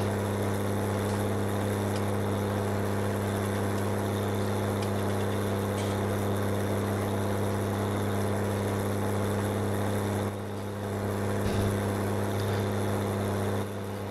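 Tractor engine in the video game Farming Simulator 19, a steady droning hum with constant tonal whine, held evenly throughout with a brief dip near the end, no voices.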